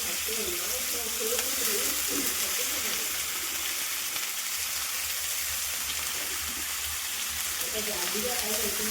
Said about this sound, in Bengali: এখানে আলু ভাজা বসিয়েছি, একদম কম তেলে বসিয়েছি